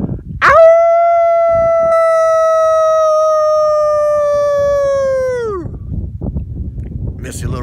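A person imitates a dog with one long, loud, sustained howl lasting several seconds that slowly fades and drops off, followed by faint outdoor background noise.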